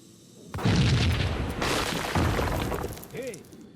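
A loud boom like a bomb going off in the video game Max Payne 3 bursts in suddenly, followed by crashing, rumbling debris and a second heavy burst, with a brief voice near the end.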